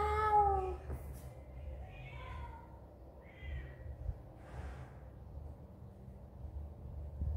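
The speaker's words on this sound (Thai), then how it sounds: "เสียงแมวใครครับ" A kitten gives several short, high meows close by, the first ones louder, then quieter intermittent mews against a soft room background.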